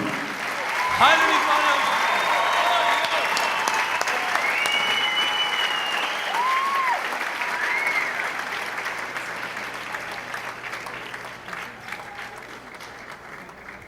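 Concert audience applauding at a live Armenian music show in a theater, a broad steady wash of clapping that starts abruptly, holds loud for several seconds and slowly fades, with someone speaking and a sustained musical tone over it.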